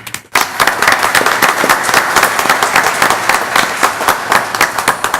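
Audience at a board meeting applauding, a loud dense burst of clapping that starts abruptly and continues steadily throughout, with no speech over it.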